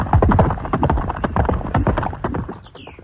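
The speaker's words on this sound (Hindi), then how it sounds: "घोड़े की टाप सुनाई दी।" A horse's hoofbeats clip-clop in a quick, steady rhythm, loud and close, with no talking.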